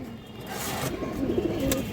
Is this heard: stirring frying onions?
no